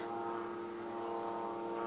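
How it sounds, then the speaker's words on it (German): An airplane flies overhead near an airport on a Sunday, a steady droning engine hum that holds at a constant, moderately distant level throughout with no talking. "Ich glaube, jetzt hört ihr ein Flugzeug,"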